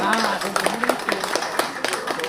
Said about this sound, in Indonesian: Mohon tepuk tangannya Bapak Ibu.